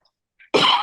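A single short, dry cough bursts out close and loud after a brief faint sound.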